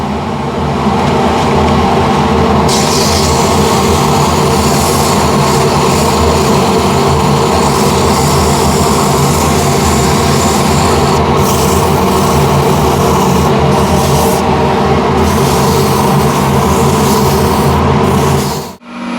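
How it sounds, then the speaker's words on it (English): A wooden ladle is sanded with 180 grit sandpaper, giving a loud, continuous abrasive rush with a droning machine hum underneath, steady for nearly the whole stretch before cutting off abruptly. "Okay, the rest I'll sand away."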